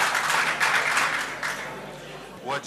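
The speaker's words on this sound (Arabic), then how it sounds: "الصحفيون الذين حضروا المؤتمر صفقوا للقرار" Journalists at an Arab League conference break into applause, a steady wash of clapping from the room that slowly fades, with a voice rising briefly at the end.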